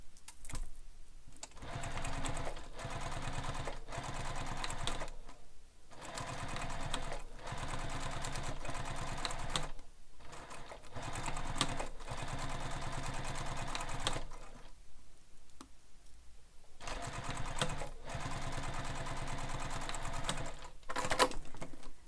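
Sewing machine top stitching down the sides of a handbag panel, running in steady bursts with short pauses between seams, close and clear with no talk.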